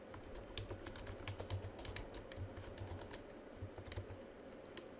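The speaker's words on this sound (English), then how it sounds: "Let's type, these are pictures of UFOs." Rapid, irregular clicking of a computer keyboard being typed on at a desk, light close-up key taps in short bursts over a steady low room hum, with no talking.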